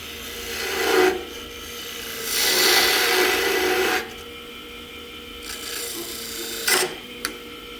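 A 3/8 spindle gouge parts off a wooden scoop spinning on a lathe, giving bursts of rasping, scraping cuts that swell and fade, with two sharp ticks near the end. No one speaks.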